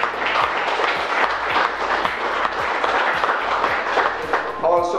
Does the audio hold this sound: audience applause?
yes